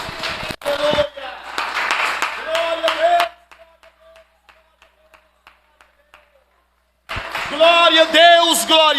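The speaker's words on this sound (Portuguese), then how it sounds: "nós vamos todos juntos aplaudir ao Senhor pela sua palavra" A church congregation claps together in a loud, dense round of applause, with voices calling out over it, then a stretch of sparse, fading claps before silence and then speech.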